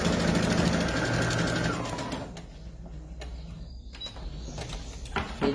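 A sewing machine stitches fabric at an atelier, running with a steady mechanical whir for about two seconds before stopping, followed by quieter handling clicks and rustles of the cloth being shifted, no talking.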